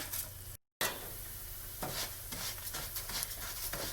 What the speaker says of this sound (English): So just keep stirring.